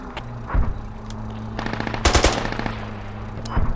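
Rapid machine-gun fire in a video game aimed at a mortar carrier's turret, loud close bursts of automatic shots with a sharp heavy volley in the middle, no talking.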